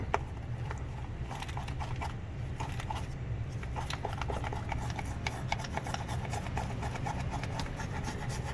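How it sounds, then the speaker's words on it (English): Continuous scratchy scrubbing of toothbrush bristles against the intake valves of a BMW E90 335i engine, a rapid back-and-forth rasp that stays steady and close throughout. "then I take my toothbrush and I start to scrape a little bit"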